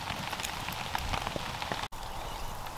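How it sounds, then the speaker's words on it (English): Steady rain falls in a UK pine forest at a wild camp, a dense, even patter of drops on surfaces all around, close and continuous with no voices. "Rain's really starting to come down now."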